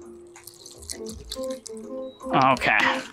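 Homemade sparkling water infused with lemongrass and lime peel pours into a glass in a short, bright splashing stream near the end, after a voice speaks briefly.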